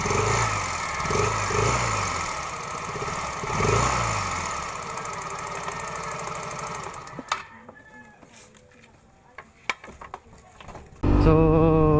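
Yamaha Mio i 125 scooter engine with a fault producing a ticking knock, revving steadily and fairly loud for about seven seconds, its rhythmic clatter pulsing with the throttle, then cutting out to quiet clicks and a short burst of noise.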